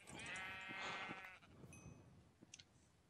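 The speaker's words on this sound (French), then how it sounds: "Ah, mouton." Sheep bleating in the blocky farming world of Minecraft's FTB Infinity modpack, a wavering, harmonic bleat up close in the first second followed by softer animal grunts and faint game clicks, no talking.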